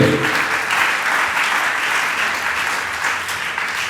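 A church congregation at a French-language worship service applauds, steady, loud, dense clapping that continues throughout and tapers slightly toward the end.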